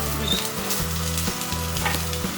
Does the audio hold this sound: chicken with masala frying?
yes